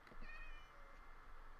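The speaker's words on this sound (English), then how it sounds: "who's a good kitty?" A cat meows in the video game Minecraft, giving a single short, faint, slightly rising meow against a soft background hiss, with no talking.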